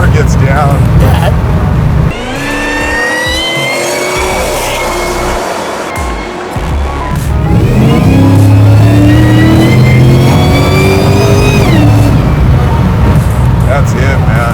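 A loud 700 hp supercharged LT4 V8 in a 1969 Camaro revs and surges as the car accelerates, rising in pitch through shifts, with people speaking over the roar.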